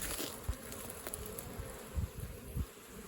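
Honey bees buzz around an open, productive hive full of honey, a steady low droning hum with a few louder swells as individual bees pass close by.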